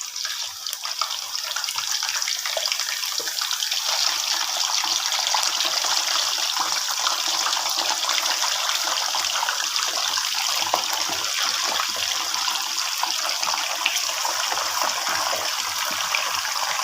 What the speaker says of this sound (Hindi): कुकिंग ऑयल हमारा गर्म हो चुका है। अब मैं इसमें चिकन को ऐड करूँगा और चिकन को हम जो है वो गोल्डन कलर में कर देंगे